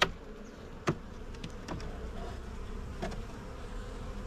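Honey bees buzz at an open beehive during a frame inspection, a steady low hum filling the background with a few brief louder buzzes as bees fly close past.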